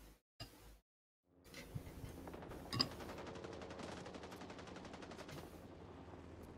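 Sustained automatic fire in Rising Storm 2: Vietnam, a steady rapid rattle of shots after a couple of isolated bangs and a short silence, fairly distant and with no talk.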